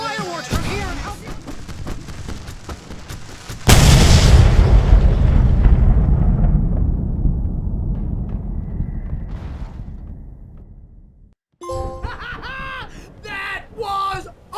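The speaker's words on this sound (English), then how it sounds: "I can set off more of the fireworks from here and help you" Fireworks in the Alan Wake video game: a sharp, loud boom that rolls off in a long fading rumble, preceded by busy crackling action and followed by a voice shouting.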